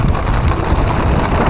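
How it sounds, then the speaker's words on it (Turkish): Steady wind blows hard across a lake during pike fishing with a float, a loud, even rush that buffets the microphone for the whole short stretch, with no talk. "Rüzgar da esiyor."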